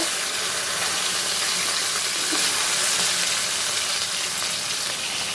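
Cumin seeds sizzling in hot oil in a pan just used to fry koi fish, giving a steady, loud, dense hiss and crackle that runs evenly throughout with no talking.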